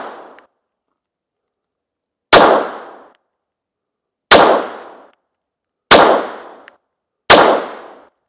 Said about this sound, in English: that was the pistol shooting, and I've got 4 holes here and I took 5 shots